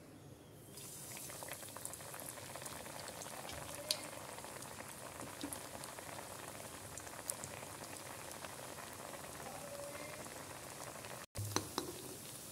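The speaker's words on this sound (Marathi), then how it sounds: "आता आपण तळूया।" Malai kofta balls dusted in flour deep-frying in hot oil, a steady dense bubbling sizzle that holds evenly throughout, close and moderately loud, with a brief break near the end.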